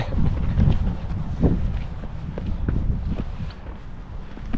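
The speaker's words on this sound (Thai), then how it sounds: "ลมโหดเกินวันนี้" A harsh outdoor wind in wintry Hokkaido buffets the microphone with a steady, fairly loud rush. Gusts swell and ease without pause.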